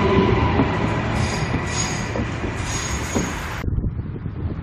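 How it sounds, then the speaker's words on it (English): A passenger train departs from a Queensland station bound for Brisbane and Caboolture, rumbling loudly nearby with high wheel squeals and a sharp tonal whine before the sound drops away. "We let this train go. It's on its way to Brisbane and Caboolture."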